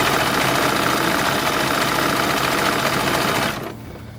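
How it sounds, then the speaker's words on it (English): A sewing machine stitches the top and bottom seams of a cotton-silk blend jacket for a porcelain doll, running in a close, loud, steady whir before stopping abruptly near the end. "I'm going to sew the top and the bottom and flip it out."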